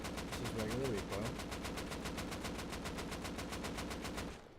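Rapid automatic video game gunfire at regular recoil, a steady, evenly spaced stream of sharp shots lasting several seconds before stopping abruptly, fairly faint overall.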